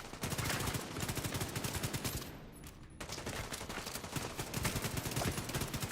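Rapid SMG fire in a shooter video game, dense continuous automatic bursts with a brief lull midway before firing resumes, loud and close.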